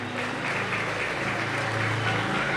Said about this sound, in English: Ripple of applause there from the Pirates fans for Sedgmen.